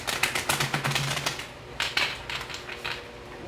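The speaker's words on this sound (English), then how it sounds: "And one more shuffle for these." Tarot cards being shuffled by hand, a quick run of crisp riffling clicks and slaps followed by a second softer burst, close and fairly loud with no talk.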